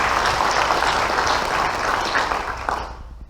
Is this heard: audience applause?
yes